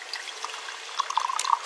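Salty water poured into a neti pot for nasal cleansing, a short, close trickle and splash that grows busier toward the end, quiet and alone.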